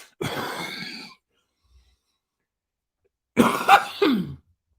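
Two separate rough bursts of coughing and throat clearing, close and fairly loud, with silence in between.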